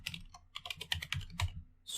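Someone types on a computer keyboard with a quick run of sharp, close key clicks in an irregular rhythm, a brief pause near the end, then one more cluster of keystrokes, with no voices.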